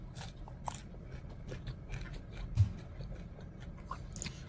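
Someone bites into crunchy food and chews, soft crackling crunches scattered over a low, quiet background.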